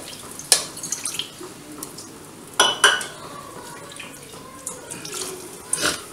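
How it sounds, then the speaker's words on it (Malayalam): Water poured into a pot of rasam while cooking, a trickling, dripping splash at close range with a few sharp clinks of utensils against the vessel. "ഇനി നമുക്ക് ആവശ്യത്തിന് വെള്ളം കൂടെ ചേർക്കാം."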